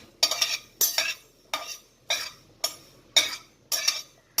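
Ivy gourd (tondli), about half a kilo, tossed in a hot pan with five-spice seeds: eight sharp, regular scraping strokes of a spoon against the pan, each about half a second apart, close and clear with no talking.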